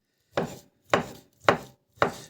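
Four even, sharp chops of a knife through food on a board, done by hand while seated by lamplight, each stroke close and crisp, spaced about half a second apart with no talk.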